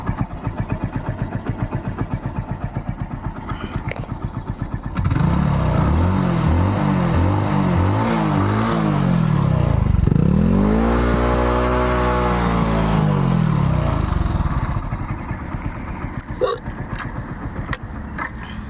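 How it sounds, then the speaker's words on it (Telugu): A 2019 Hero Passion Pro motorcycle engine idles nearby with a steady putter, then revs up and down in rising and falling sweeps before settling back to a steady idle. "ఇంజిన్ రన్నింగ్లో ఉంది చూడండి"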